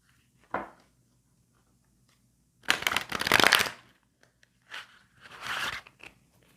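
Tarot cards shuffled right beside the microphone in short crisp bursts, a brief riffle, then a longer loud shuffle, followed by two softer rounds of papery card slapping in an otherwise quiet room.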